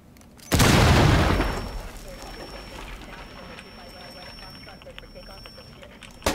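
A breaching charge in Rainbow Six Siege detonates with a sudden loud, close boom, then a long rumbling decay with debris settling, while a player's voice carries faintly beneath.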